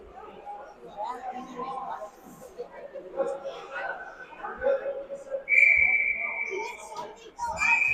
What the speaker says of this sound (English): All right, we got a whistle blowing.